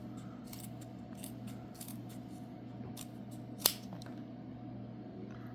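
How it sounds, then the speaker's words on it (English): Leatherman Surge multitool scissors snipping, a steady run of faint crisp cuts every half second or so with one sharper louder snip near the end, over a constant low hum. "Now we will go over to the Surge scissors"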